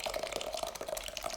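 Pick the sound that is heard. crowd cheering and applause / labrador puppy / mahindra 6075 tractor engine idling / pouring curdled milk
pouring curdled milk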